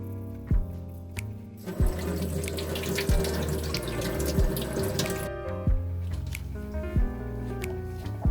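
Tap water runs steadily over lemons being rinsed in a sink, with a close gushing stream broken by repeated splashes and knocks as the fruit is handled.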